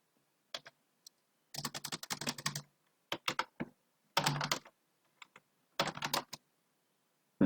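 Computer keyboard keys typed in separate bursts of rapid clicks with short pauses between, entering a debug command in a programming session; close and clear, with no talk.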